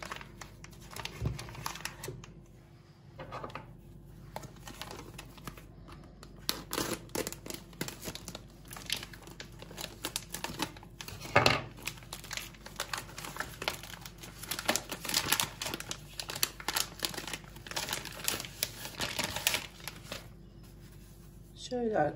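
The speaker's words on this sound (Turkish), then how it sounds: "Şimdi paketi açalım bakalım." A plastic package of çiğ köfte is torn open and its wrapper crinkles and rustles for a long stretch close by, with a person talking at intervals.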